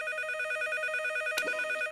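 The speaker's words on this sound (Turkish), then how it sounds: "İyi insan lafının üstüne telefon açar." A telephone rings with a steady electronic tone in a Turkish TV sitcom home scene, loud and continuous throughout, broken once by a brief sharp click.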